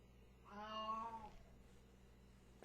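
A house cat meows once, a clear drawn-out call rising and falling over about a second, close by in a quiet room with a faint steady hum beneath.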